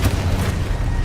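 A spell-cast explosion in a Harry Potter wizarding video game, heard as a short, loud, low booming rumble that stays steady and heavy all the way through with no pause.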